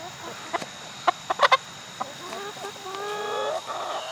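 Chickens clucking nearby, a few short sharp clucks spaced apart, then a run of drawn-out squawking calls toward the end.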